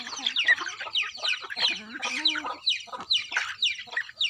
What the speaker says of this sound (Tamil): பாசமாக பாப்பா கோழிங்களை பிடிக்கிறா பாருங்கள்